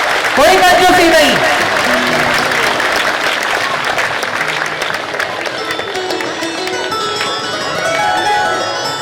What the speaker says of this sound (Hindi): जोर से तालियां,